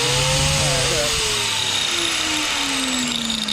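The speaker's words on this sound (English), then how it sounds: "this is my very sketchy bench grinder" Sketchy bench grinder spinning up, a loud close motor whine with a harsh buzzing roar that slowly drops in pitch, running alone for a few seconds.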